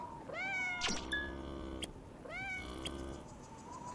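A cat meows twice, close and clear, each a rising then falling cry, with soft clicks and rustles in between.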